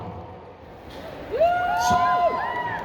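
A crowd in a Toronto audience cheers and whoops for a few seconds, rising from a murmur into a swell of voices and whistling shouts.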